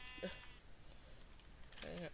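Sheep bleating in the Minecraft video game, two short wavering bleats about a second and a half apart, fairly clear against a quiet background hum.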